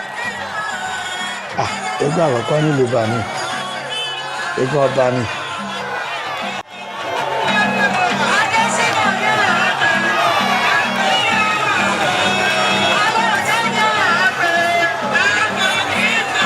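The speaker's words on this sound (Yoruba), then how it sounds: "láriwo ń pa kù làwọn èèyàn ń pàtẹ́wọ́" Crowd cheering and shouting at an Isese Day masquerade performance in the Iba Awori Kingdom, a loud, continuous roar of many voices with a voice speaking over it at the start.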